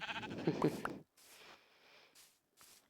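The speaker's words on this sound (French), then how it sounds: "Viens là, viens là, viens là, mon petit mouton." Minecraft sheep bleats in a Bedrock hardcore survival game: a short burst of stacked bleats near the start, then quieter game noise with brief gaps of near silence.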